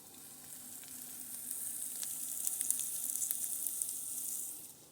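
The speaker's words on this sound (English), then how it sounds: "Look, it's sizzling." Food sizzles and crackles steadily in a hot pan, a bright hissing sound that swells slightly in the middle.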